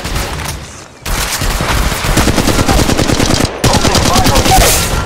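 Loud sustained automatic gunfire in Apex Legends Mobile, long rapid volleys of shots with a brief break near the start and another short gap midway.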